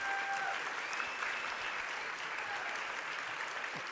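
Gala audience applause, a dense and steady wash of clapping that holds at an even level for the whole stretch, with a brief tone near the start.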